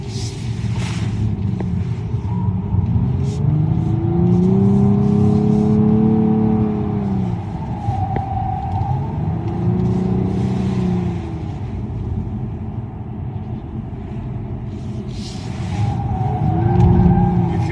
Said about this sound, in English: So I'm going to initiate understeer here.